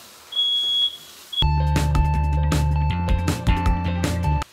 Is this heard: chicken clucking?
no